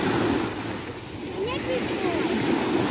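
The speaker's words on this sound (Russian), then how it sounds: "Только что не было волн, уже волны опять" Sea waves wash onto a beach at Berdyansk in a steady, loud rushing roar, with wind buffeting the microphone and muffled voices nearby.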